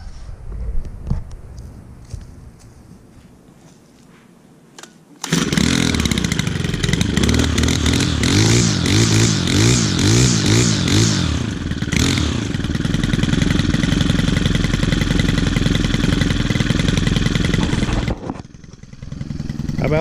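An Echo or Stihl gas string trimmer engine starts on a single pull and then runs loud and steady for about thirteen seconds, its buzzing whine rising and falling with throttle before cutting off, after a few quiet handling sounds.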